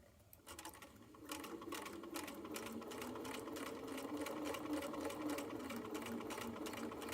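A sewing machine topstitches a fanny pack flap, starting after a brief pause and then running in a fast, even mechanical rattle close by.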